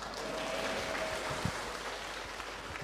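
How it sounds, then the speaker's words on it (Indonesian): Audience applauding for Romo Eko, a priest, at a talk: steady, moderately faint clapping from a group, continuous for a few seconds with one louder clap mid-way. "Sekali lagi tepuk tangan lagi dong buat Romo Eko"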